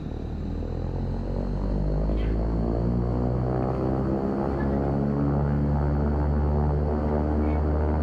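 Turboprop engine in X-Plane 11 running after a left-side start, a steady loud droning hum with low propeller harmonics that holds evenly throughout, alone with no talk.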